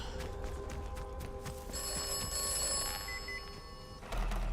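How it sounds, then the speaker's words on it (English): A cell phone rings in the video game Atomfall, a steady electronic trill that sustains for several seconds over dense ambient game sound and rumble, with no voices. "Cell phone."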